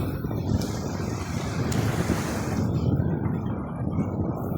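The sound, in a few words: wind blowing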